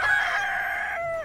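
A chicken in the video game Chkn gives a single drawn-out, crowing squawk, close and clear, fading off at the end.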